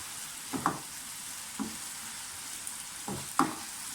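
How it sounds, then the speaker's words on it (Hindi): Tomatoes fry and sizzle steadily in a pan for an Afghani omelette, with a few soft scraping stirs at irregular intervals over the constant hiss. "थोड़ा सा हिला लें टमाटर वगैरह को"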